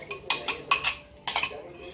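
A metal spoon clinks and scrapes against a bowl while stirring sugar into yogurt, with several quick bright bursts of clatter separated by short pauses.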